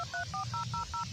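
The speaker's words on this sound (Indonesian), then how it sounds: "Coba gua telepon lagi" A telephone number is dialed in a rural Sundanese village setting: about seven quick touch-tone beeps in a steady rhythm, each short and clear, over a low background hum with no talking.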